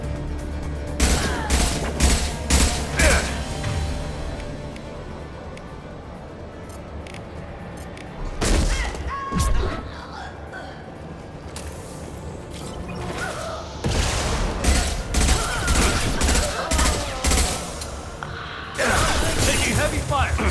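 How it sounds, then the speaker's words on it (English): Heavy gunfire in Mass Effect 2 combat, with dense bursts of rapid weapon fire and impacts coming in loud waves across twenty seconds, broken by calmer gaps, with voices talking in between. "Taking heavy fire!"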